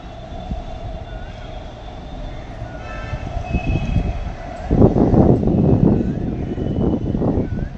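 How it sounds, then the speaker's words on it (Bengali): A metro train rolls past near a rooftop garden, first a steady hum, then a louder rumbling swell as the cars pass close by, with wind in the background. "এই যে মেট্রোটাই যাচ্ছে, আমি এই ওখান থেকে ভিডিও বানাচ্ছি।"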